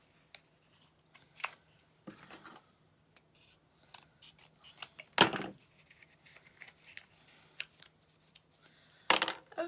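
Scissors trim material for a red truck snow globe Christmas ornament, giving sparse, close snips and a few crisp crunchy cuts in irregular bursts with quiet pauses between them, and no talking.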